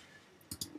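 Two quick mouse clicks close together, crisp and near, on a Mac computer while a Minecraft mod loader is being downloaded, following a brief stretch of quiet room tone.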